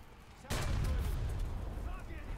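A tank gun in War Thunder fires once with a heavy boom, then a sustained roar and rumble trails off for about two seconds. The blast sounds loud and fairly close.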